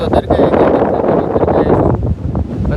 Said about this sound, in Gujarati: પવન જોરદાર છે